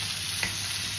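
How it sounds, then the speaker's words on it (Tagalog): Chopped tomatoes are sautéed in a hot pan for a Kapampangan fermented fish dish. A steady, close sizzle of frying runs throughout, with a brief stir near the middle and no talking. "matinding panggisa po yung ating kamatis guys, para maluto po siya guys"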